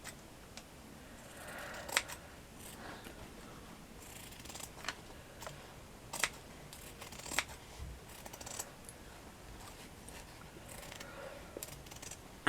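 Scissors cut fabric for craft flowers in a series of faint, close snips and clicks, scattered irregularly over a quiet background.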